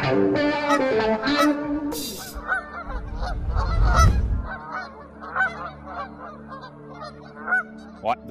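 Canada geese honk loudly during an early-season goose hunt in Quebec. Repeated nasal honks come from several birds, and a low rumble swells midway.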